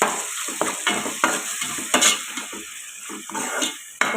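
Tomatoes with salt cooking down in a pan, giving a steady close sizzle broken by repeated scraping and stirring strokes, with no voices.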